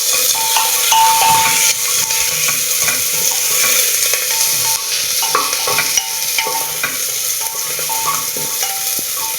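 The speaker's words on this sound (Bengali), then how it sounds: "এবার দিয়ে দেবো পেঁপে কুচি, গাজর কুচি, বিনস কুচি আর আলুটা দিয়ে দেবো।" Chopped papaya, carrot, beans and potato drop into a pot of coriander chicken soup, followed by close, steady sizzling and stirring with occasional scraping clinks against the pot.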